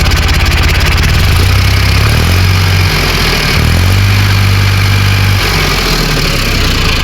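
A 2019 Eicher 557 tractor engine runs close and very loud, holding a steady, throbbing diesel idle with slight shifts in pitch throughout.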